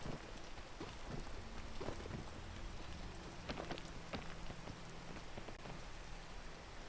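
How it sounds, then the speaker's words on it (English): Steady rain in the video game Peak, a constant dense patter with faint rumbling underneath and no talk. "this is the worst time for it to start raining."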